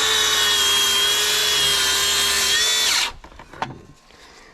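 A power saw cutting wooden roof battens on a caravan roof, a loud, steady high-pitched whine for about three seconds that stops abruptly, followed by a few knocks and handling clatters.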